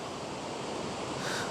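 Steady broadband rush of a turquoise waterfall and cascades in an autumn landscape, a continuous even roar with no voices.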